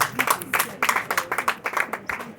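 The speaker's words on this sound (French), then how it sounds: "Il faut applaudir pour ce qu'il a dit" An audience at a recruitment open day in Togo applauds with a quick run of uneven, overlapping claps from a modest crowd, fairly close and lasting a couple of seconds.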